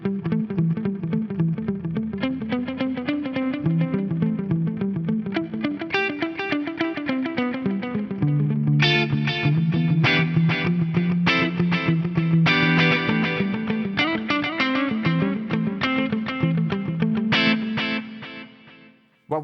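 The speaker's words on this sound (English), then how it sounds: "we're going to have this classic sound of a delay feeding into a reverb" Electric guitar through a Fractal FM3 with a delay feeding into a reverb, a played melodic phrase whose echoes quickly wash into a dense reverberant tail, sustained and fairly loud, with no talking.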